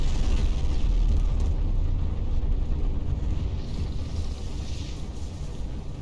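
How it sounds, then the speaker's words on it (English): Rocket engine at full throttle in Kerbal Space Program: a loud, steady low rumble that fills the whole stretch, easing slightly in level toward the end. "And listen to this engine in 3,"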